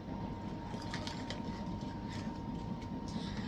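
Steady rumble and rattle heard from inside a moving passenger train near Kottayam, a continuous low drone with a faint hum and occasional clatters, no talking.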